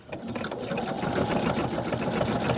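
An embroidery machine runs a satin stitch around the light blue edge at the top of a snow globe ornament stitched in the hoop, giving a steady, close, rapid mechanical whir that holds even throughout.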